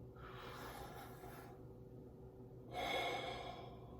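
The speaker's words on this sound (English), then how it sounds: "So take that breath with me." One person draws in a deep breath through the nose, then a second, louder and longer inhale follows, close and soft with no talking.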